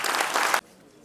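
An audience at a stage function in Belagavi welcoming a senior theatre figure gives a short burst of clapping that stops abruptly, leaving only a quiet hall tone.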